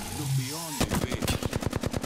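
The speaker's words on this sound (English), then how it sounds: "Firing. I'm taking fire." Rapid automatic gunfire in the video game Apex Legends, a dense burst of about a dozen sharp shots in quick rhythm after a brief speaking voice.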